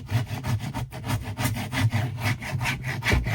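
A sharp Lidl Parkside hand tool shaves slivers off plywood in quick, rhythmic rasping strokes, close and fairly loud, about a dozen scrapes in a few seconds.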